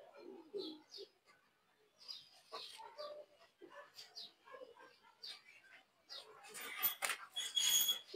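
Pigeons in a cage, bought at a local market, cooing softly in short repeated calls close by, with light rustling and brief bursts of noise near the end.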